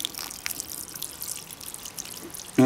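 Water is poured slowly onto porous lava rock from a Kilauea lava river in Leilani Estates, Hawaii, giving a steady close trickle with small dripping splashes throughout and a brief bump at the end.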